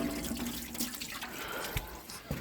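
Clean water running and splashing as it is poured for ducks, a steady trickle with a few drips and light knocks, fairly quiet.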